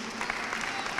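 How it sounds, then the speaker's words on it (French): Children's Christmas Eve Mass congregation in a cathedral applauding, a steady wash of many hands clapping throughout, roomy and moderately loud. "bravo, applaudissez"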